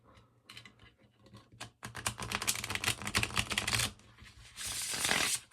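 A custom deck of card stock cards being shuffled by hand, quick sparse riffles building into a dense, rapid rattling burst, then a softer hissy slide at the end, close up with no voices.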